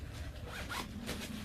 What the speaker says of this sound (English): Let's test the zipper. So, zipper works fine.